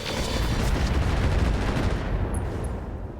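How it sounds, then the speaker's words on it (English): A volley of SRM missiles fired in the mech combat game RogueTech BattleTech comes as a loud, dense rushing roar of overlapping launches and blasts that fades slightly toward the end, with no talk over it. "I am going to fire the SRMs here"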